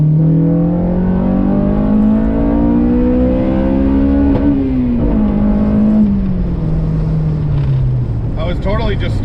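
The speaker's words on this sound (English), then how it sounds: "looks like we hit the rev limiter" A Honda Civic EK GSR hatchback engine revs up steadily and holds near the rev limiter, a loud continuous drone that dips and settles as the revs fall, with faint talk underneath.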